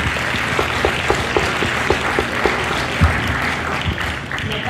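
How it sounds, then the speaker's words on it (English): An audience applauds a panel at the end of a discussion on online trolls, sustained clapping from a room of people at moderate loudness, continuous and even for several seconds. "Another round of applause for the panel."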